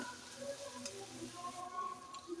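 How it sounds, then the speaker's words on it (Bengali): Mustard paste stirred into hot oil in a pan gives a soft, steady sizzle with faint scraping of a spoon, fairly quiet and continuous, no voices. "সর্ষেটা দিয়ে তেলের উপরে একটু নাড়াচাড়া করে নেব"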